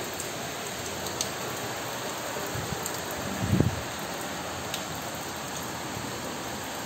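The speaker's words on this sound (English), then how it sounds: "All are enjoying the beautiful rain." Steady rain falls on plants and trees, a dense continuous hiss with a few louder drips and a short rustle near the middle.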